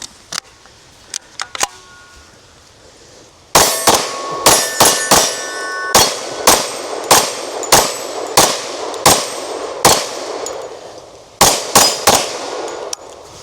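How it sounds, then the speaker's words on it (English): A 10mm pistol firing a string of rounds at steel targets outdoors: loud, sharp shots in a steady rhythm, each followed by a ringing metallic clang, after a few quieter early bangs and no talking. "I'm just gonna shoot 17 rounds"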